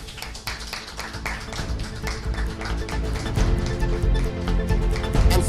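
An audience claps at a children's day debate event in Lagos, a dense, steady round of applause that swells louder toward the end.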